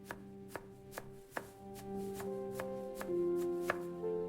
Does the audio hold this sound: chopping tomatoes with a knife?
yes